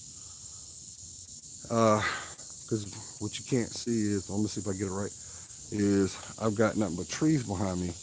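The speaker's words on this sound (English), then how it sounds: "you hear the cicadas singing their song" Cicadas sing among trees in a steady, high, continuous drone that runs through the whole stretch beneath someone speaking outdoors in the foreground.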